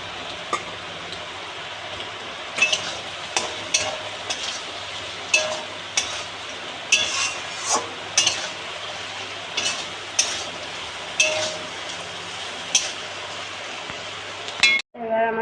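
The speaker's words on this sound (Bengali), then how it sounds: "আলুগুলো দিয়ে আরও 2 মিনিট কষিয়ে জল দিয়ে দেবো।" Potatoes are stir-fried in a spice masala for a katla fish kaliya, a spoon clinking against the pan at a regular pace over a soft, steady sizzle.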